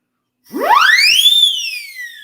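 An Acme Cyclone siren whistle winds up from low to a high shrill wail, then holds and slowly sags, one loud sustained sweep.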